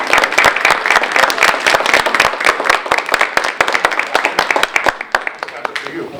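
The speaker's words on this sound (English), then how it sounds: "A round of applause." A crowd at a farewell gathering breaks into sustained applause, dense rapid clapping that stays loud and steady before thinning out toward the end.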